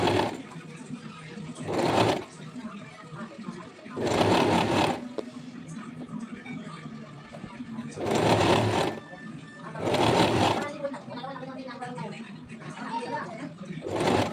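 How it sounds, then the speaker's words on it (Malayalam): A sewing machine stitches a simple cotton frock, whirring loudly in four bursts of about a second each, with quieter handling sounds between the runs. "രണ്ടും കൂടി തമ്മിൽ യോജിച്ച് സ്റ്റിച്ച് ചെയ്ത് കൊടുക്കാം"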